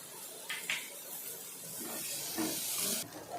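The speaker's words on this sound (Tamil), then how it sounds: "எல்லாம் சேர்த்து நல்லா வறுத்து எடுத்துக்கலாம்" Peanuts, curry leaves and four garlic cloves dry-roasting together in a pan for a peanut side dish, giving a steady soft hiss with faint scraping bursts throughout.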